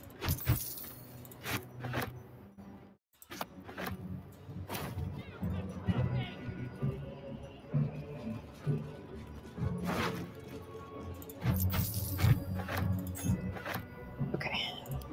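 Keys jangle in brief metallic bursts as they are picked up in Baldur's Gate III, several quick clinking clusters spread through the stretch, with soft background sounds and a person talking faintly now and then.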